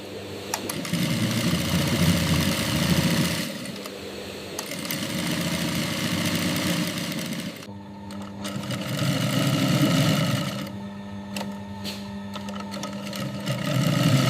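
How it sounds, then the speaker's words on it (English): Industrial overlock sewing machines stitch cotton shirt seams, trimming and wrapping raw edges in a steady mechanical whir that runs in long bursts with brief pauses between them. "Overlock machines trim and wrap raw edges together, forming flexible seams that resist fraying during wear."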